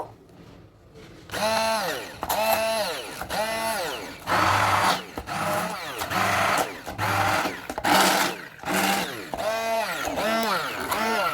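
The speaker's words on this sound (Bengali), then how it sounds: "এই তো গাজরটা ব্লেন্ডার করে ফেলছি" An electric blender whirs through boiled, cooled carrots in a string of short pulsed bursts, each rising and falling in pitch, loud and close with brief gaps between them.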